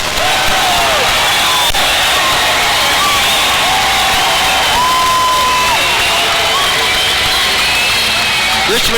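An indoor arena crowd cheers and roars continuously after a Richmond Rough Riders win over the Carolina Energy, loud and sustained, with a commentator talking over the din.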